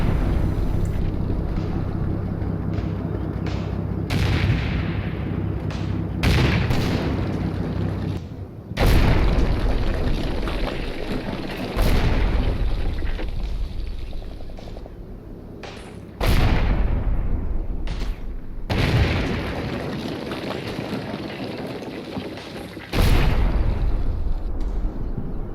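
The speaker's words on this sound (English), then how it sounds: "Using my Panzer IVs, pound the villa." Panzer IV tanks shell a villa in a Combat Mission wargame set in Italy, August 1943, with a series of loud booming cannon shots every few seconds over a windy, rumbling background.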